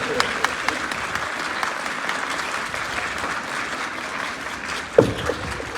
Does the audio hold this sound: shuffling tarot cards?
no